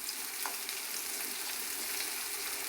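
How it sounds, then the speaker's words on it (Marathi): Onion frying in a pan, a steady close sizzle and crackle with light stirring, alone without talk. "बघू शकता तुम्ही कांदा किती सुंदर भाजत आलाय."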